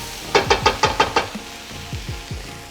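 A spoon knocks and stirs through chicken soup in a pot, six quick close clinks in a row and then a few softer, slower scrapes.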